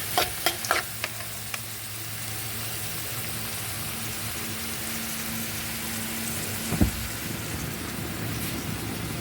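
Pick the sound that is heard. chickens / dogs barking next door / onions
onions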